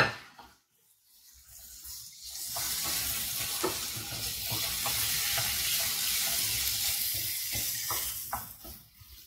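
Beef and shrimp sizzle and spatter in a hot wok, with a steady broadband frying hiss after a brief quiet start and scattered clicks of stirring and tossing, close and fairly loud, no voices.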